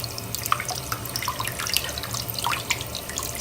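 Water runs steadily from a tap as crystals are rinsed under it, a close, constant splashing hiss with small drips and clinks and no voices.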